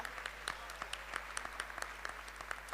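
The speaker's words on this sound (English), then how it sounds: "Let's give him a big round of applause" An audience at a school-related event applauds with steady, dense clapping from many hands, sustained throughout at moderate volume.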